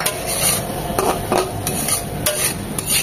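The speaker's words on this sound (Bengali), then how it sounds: "মশলাটা কষানো হয়ে গিয়েছে, চিংড়িগুলো দিয়ে দিব।" Small shrimp go into a pan of spice paste that is being stir-fried for a pumpkin curry, with a steady sizzle and repeated scraping clinks of a spatula against the pan, close and fairly loud, with no voices.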